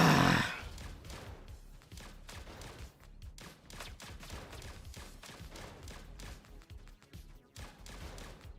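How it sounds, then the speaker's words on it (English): A robot enemy in an Atari Recharged arcade game fires rapid bursts of shots at the player, making a dense run of punchy electronic blasts and thuds. A loud hit opens the burst. "Let's just stand still in front of a robot that's shooting at me."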